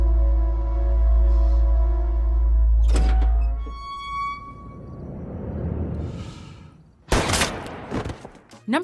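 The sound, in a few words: gunfire in The Godfather movie scene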